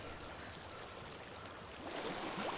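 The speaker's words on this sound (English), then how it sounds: "I hear water." A flowing stream in the video game Hellblade: Senua's Sacrifice, a steady broadband rush of water that grows slightly louder toward the end, with no voices.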